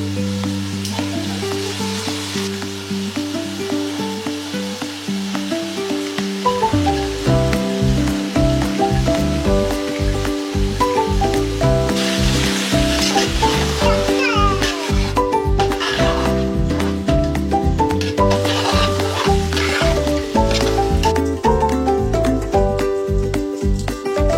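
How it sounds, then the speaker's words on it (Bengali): Vegetables and green chillies sizzle loudly in a large pan for a big batch of poha, with steady frying hiss and repeated scraping and stirring strokes, no voices over it. "সবজিগুলো ভাজা হয়ে গেছে, এবার জাস্ট পোহাটাকে মিক্স করে দেবো।"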